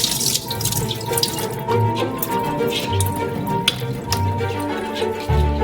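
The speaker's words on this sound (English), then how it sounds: "We drain the already unnecessary liquid." Water pours from a pot of boiled potatoes into a sink, a steady running splash with brief drips and a faint sizzle-like hiss, loud and close throughout.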